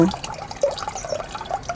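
Homemade pest-spray liquid strained through cloth drips and trickles steadily into a container close by, with scattered wet patters and no talk.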